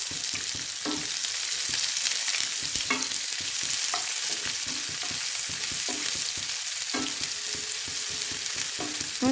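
Chopped onion frying in hot oil with a five-spice tempering for achari eggplant, giving a loud, continuous sizzle broken by repeated clicks and scrapes of stirring.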